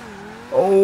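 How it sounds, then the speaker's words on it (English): A McLaren supercar's engine in GTA Online, starting as a low steady drone and then surging louder into a rising, harmonic-rich exhaust roar partway through the short burst. "Let's hear the exhaust note."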